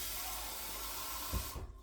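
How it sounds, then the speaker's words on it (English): Water from a can pours into a crockpot with a continuous splashing hiss that runs steadily, then cuts off abruptly near the end. "I am going to add about half a can of water to this."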